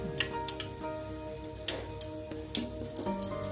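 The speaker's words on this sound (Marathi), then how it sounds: "मी डीप फ्राय करत आहे" Millet vadas deep-frying in hot oil make a soft steady sizzle, with close pops and crackles rising now and then.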